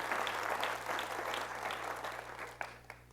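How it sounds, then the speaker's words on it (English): An audience at a school district State of Schools address claps steadily for a few seconds, then the applause thins out to a few scattered final claps. "Let's give them a round of applause."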